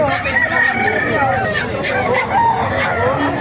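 Several roosters crow over one another amid a busy yard of chickens at a poultry market, loud and close, with a constant background din of clucking birds.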